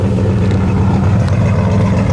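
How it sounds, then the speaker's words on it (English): A deep, steady engine rumble from a 1972 Chevelle SS with dual exhaust, idling close by, low and throaty with a constant drone and no talking. "It's got really nice sound and dual exhaust"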